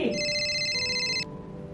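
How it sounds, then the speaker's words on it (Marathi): A telephone rings with a bright electronic trill for just over a second and then cuts off. The ring is moderately quiet over a low room hum. "फोन येतोय"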